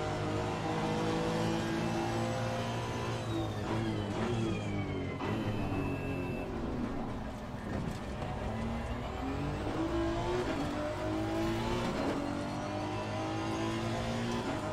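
A race car engine in the video game Assetto Corsa Competizione roars continuously, revving up and down through gear changes, loud and close with no voices.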